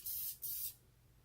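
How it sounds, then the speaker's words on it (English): Two quick bursts from a Groomate deodorizing spray bottle used on a dog after cleaning, each a sharp, close hiss lasting about a third of a second, then quiet. "the next thing is to use this Groomate spray, and it's just going to be like a deodorizing spray"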